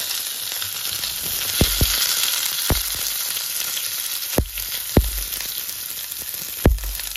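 Small mourala fish patori wrapped in lau (bottle gourd) leaves, four pieces at once, frying in hot oil: a steady, close sizzle with occasional sharp crackles and pops.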